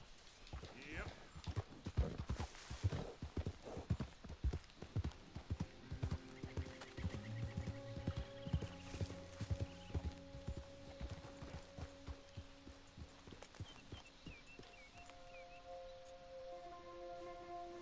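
Horse hooves clip-clop steadily through Red Dead Redemption 2, a quick, loud rhythm of hoofbeats that gradually settles, with a whinny and sustained in-game music tones rising in the later part.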